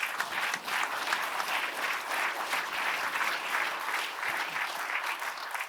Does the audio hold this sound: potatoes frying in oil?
no